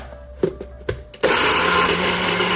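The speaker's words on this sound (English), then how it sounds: "In here we have some garlic, ginger, the celery stalk, and a tablespoon of white pepper. We're gonna blend this as well." A kitchen blender whirs steadily on garlic, ginger, celery stalk and white pepper, starting after a few light knocks and clicks and then running continuously, close and loud.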